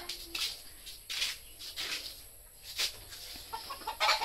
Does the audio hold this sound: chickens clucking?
yes